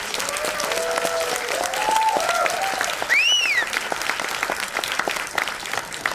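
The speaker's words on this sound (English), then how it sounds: "We should give a big round of applause of all those people who made it." Audience applause at a book launch, a dense steady wash of many hands clapping that fills the whole stretch at even loudness, with faint voices and whistles rising over it.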